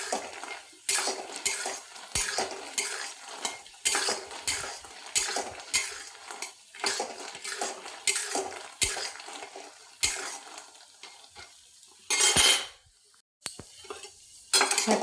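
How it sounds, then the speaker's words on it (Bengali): Lentil dumplings (bori) frying in oil in a pan, with repeated scraping and clinking of a metal spatula against the pan in an uneven rhythm over a low sizzle, close by and with no voices. "দেখো, বড়ি ভাজা হয়ে গেছে"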